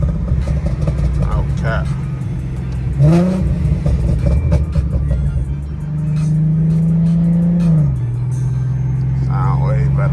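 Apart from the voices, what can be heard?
Infiniti G37 engine revving through exhaust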